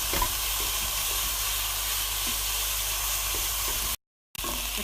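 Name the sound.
ground beef frying in a pan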